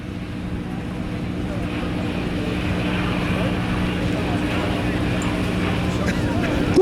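A skydiving jump plane drones overhead at the First State Airshow in Dover, Delaware, a steady distant engine rumble mixed with wind noise that swells slightly toward the end.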